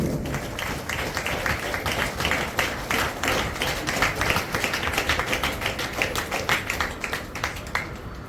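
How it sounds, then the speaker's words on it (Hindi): A conference audience claps together in a sustained burst of applause, dense, steady clapping lasting throughout with no speech over it. "सभी लोगों को एक साथ जोरदार ताली, जोरदार ताली"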